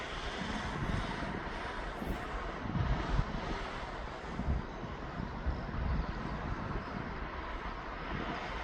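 An airliner on final approach at East Midlands Airport gives a broad, distant roar that swells and fades slightly, mixed with gusty wind buffeting the microphone. No one speaks.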